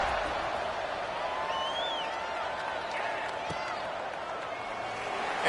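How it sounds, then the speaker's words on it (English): Football stadium crowd at a South Carolina versus LSU game, buzzing steadily after a score. A broad, distant roar continues without a break, with scattered whistles and shouts rising out of the noise. "this crowd is buzzing after that last score"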